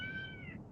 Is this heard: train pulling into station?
no